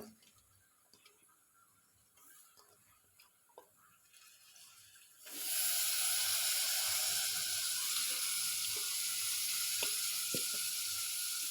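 Masala frying in hot oil in a home kitchen. A quiet stretch with faint ticks gives way midway to a sudden loud, continuous close-up sizzle that holds steady to the end.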